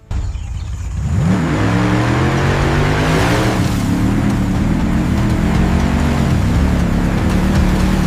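A restored Anaconda Elite limousine engine starts and rises into a loud, steady, close running drone, with a brief surge of revving before it settles into a constant hum.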